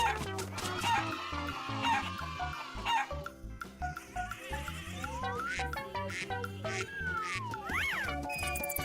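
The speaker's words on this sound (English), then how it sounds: "Chicken." A chicken clucks and calls in a children's animal-learning setting, mixed with cheerful music that plays throughout.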